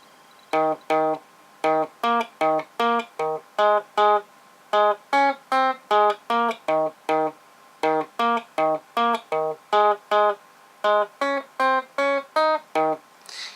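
Guitar riff from a song played slowly and clean, without effects, as a steady run of short plucked notes repeating in even groups, close and alone.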